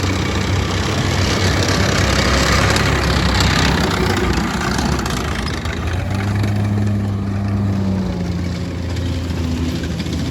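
A heavy military vehicle from a war museum collection rumbles past nearby, its deep engine loud and steady, then easing to a lower droning note as it moves on.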